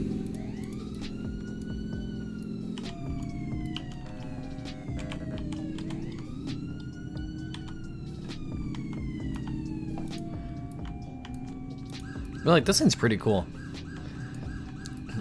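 Fire engine and ambulance sirens in the Roblox game Southwest Florida wail steadily with rising and falling sweeps, layered over a constant engine drone, with a brief burst of louder horn blasts near the end and a voice speaking briefly.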